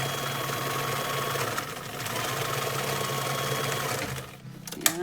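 A sewing machine runs a steady straight stitch across the fabric of a homemade face mask, a continuous mechanical whir with fast rhythmic clatter that slows and stops near the end.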